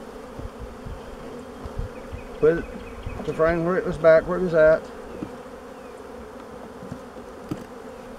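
Honey bees buzz steadily while being shaken off a frame during a hive split, a low continuous hum under a voice that speaks briefly in the middle.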